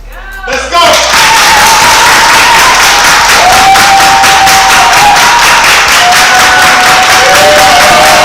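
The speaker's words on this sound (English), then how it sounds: "when I start clapping, we all going to clap and rejoice at the same time" A group bursts into clapping and rejoicing together, loud sustained applause mixed with cheers and shouts, starting abruptly after a brief pause and continuing steadily to the end.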